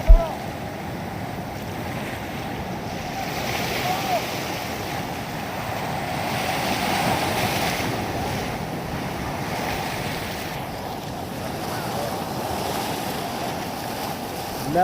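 Rough sea pounding the shore during a storm surge alongside flash flooding, heard as a steady roar of surf with wind rumbling against the microphone, continuous and fairly loud throughout.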